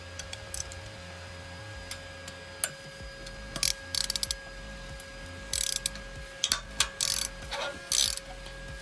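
A ratchet fitted with a 12 mm socket clicks in short bursts while loosening bolts during catalytic converter replacement on a Citroen C1, with bursts of rapid pawl clicks and a few knocks over a quiet workshop hum.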